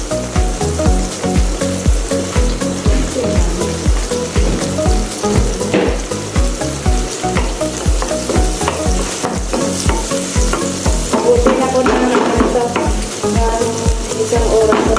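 Onion frying in a little cooking oil in a pan, a dense steady sizzle with constant crackle and the rhythmic scrape of stirring throughout, close and loud with no talking.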